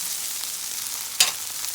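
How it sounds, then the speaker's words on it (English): Green onions drop into a hot frying pan for a Guyanese breakfast and sizzle with a steady, even hiss. A brief, sharper burst of crackle rises midway as they hit the oil. "So now we're gonna add our green onions."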